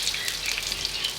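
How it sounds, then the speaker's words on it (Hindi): Sliced onions hitting hot ghee in a cooking pot, a bright, dense crackling sizzle that runs steadily and loud throughout, with no talking. "घी हमारा गर्म हो गया, इसमें हम अपने प्याज डालेंगे"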